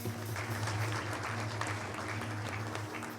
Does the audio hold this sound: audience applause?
yes